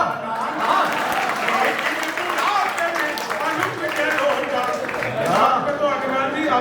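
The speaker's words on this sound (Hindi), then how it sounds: "तो अग्रवाल जी आपने भी ताली बजा दी" An audience applauds with steady, dense clapping at a comedy poetry show. The clapping runs through the whole stretch, with voices and laughter mixed in.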